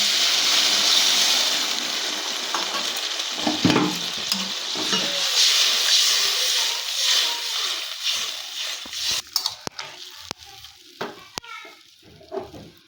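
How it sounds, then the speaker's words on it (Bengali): A loud sizzle as water hits a potato, onion and spice mixture frying in a pan, with stirring; the hiss dies down toward the end, broken by a few sharp clinks of a utensil. "পরিমাণ মতন জল এবার আমি দিয়ে দিচ্ছি"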